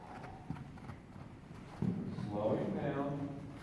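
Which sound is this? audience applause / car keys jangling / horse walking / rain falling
horse walking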